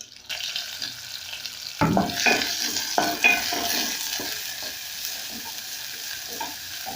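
Onions going into hot cooking oil in a pot set off a loud burst of sizzling frying, with a few stirring knocks early on, then a steady crackle that settles and continues alone.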